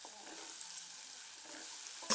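Ginger garlic paste frying in hot oil, a steady broadband sizzle held at even loudness with a slight rise at the end.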